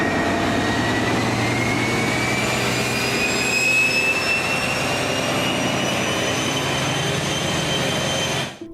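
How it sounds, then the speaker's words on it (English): A British Rail Class 43 diesel locomotive with a Valenta prime mover revs up with a loud, rising whine-like scream over a deep engine rumble, holding steadily for several seconds before cutting off abruptly. "43019 would have been using a Valenta prime mover, characteristic for its vacuum cleaner-like scream as the engine revs up."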